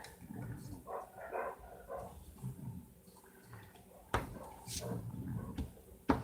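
A dog barks a few times indoors while a person talks quietly during a card-making craft session, the barks short and fairly faint with small household knocks around them.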